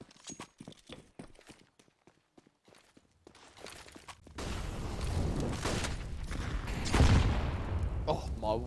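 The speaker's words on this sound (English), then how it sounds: "Nades land at his feet" Grenade explosions during a Counter-Strike match, a sudden dense roar of blasts and rumble that takes over after a run of sharp footstep-like clicks, with a louder burst near the end and commentary underneath.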